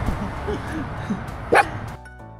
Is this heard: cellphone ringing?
no